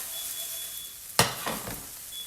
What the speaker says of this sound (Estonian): ja sibul las praeb